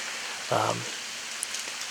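Steady rain falls outdoors during a hunt on the Great Plains, a constant soft hiss of drops on surfaces with a brief louder thump partway through.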